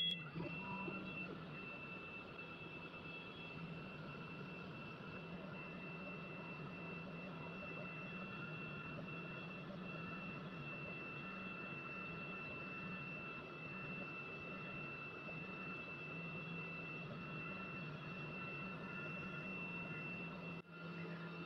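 An engraving machine running a job, giving a continuous droning hum with a steady whine layered on top, unchanging for the whole stretch, moderately quiet and with no talk.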